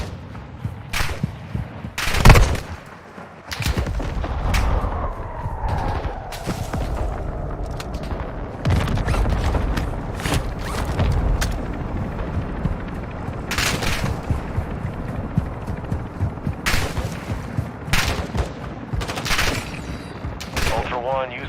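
Heavy gunfire in Warzone 2.0, with a loud burst of shots and then sustained rapid automatic fire and sharp reports throughout, along with booming impacts and brief radio-style voices mixed in.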